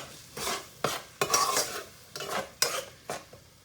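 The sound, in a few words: stirring beans into a pan of rice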